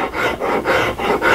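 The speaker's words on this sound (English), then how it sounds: "I started hacking on this with a rasp" A rasp files a wooden CZ 457 rifle stock in five long, even strokes, each a loud scraping rush with brief pauses between, close by and with no voices.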